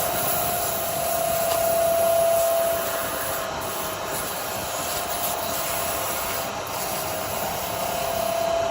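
A shop vacuum runs beside a lathe while a wooden Christmas tree is sanded, making a continuous loud airy drone with a faint steady whine throughout, with no voices.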